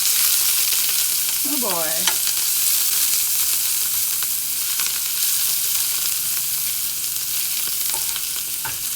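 Garlic and ginger frying in a Green Life pan, a steady close sizzle that holds throughout, with stirring scrapes and a brief exclamation from a voice early on.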